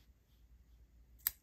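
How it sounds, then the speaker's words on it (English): A single quick snip of scissors cutting through butterscotch-colored crochet yarn, brief and close, near the end of an otherwise quiet moment. "And then I get my scissors and cut off the"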